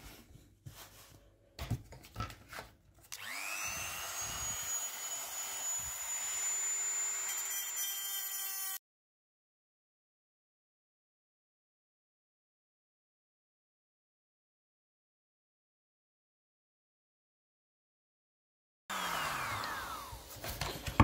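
A power grinder shapes an adapter for an ND filter on an Insta360 ONE RS camera. It spins up to a steady whining grind, then cuts off into a long silence before starting up again.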